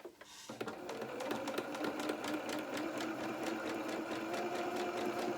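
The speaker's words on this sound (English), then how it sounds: "we're just going to do a zigzag stitch around the top of these flies" A sewing machine stitches a zigzag around the fly of doll-sized trousers, starting after a brief pause and then running in a fast, steady mechanical whir with rapid needle clatter, close and alone.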